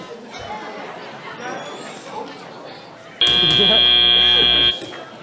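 A loud, steady end-of-match buzzer at an FTC robotics competition sounds for about a second and a half, cutting sharply through background crowd chatter and talk before stopping abruptly.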